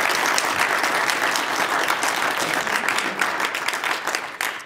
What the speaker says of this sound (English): So quick round of applause for all our staff members doing a great job tonight.